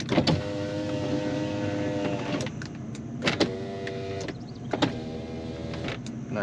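A power window on a 1994 Ford Bronco XLT hums up and down in several separate runs, each ending in a clunk as the glass seats. The whirring is steady and close inside the cab.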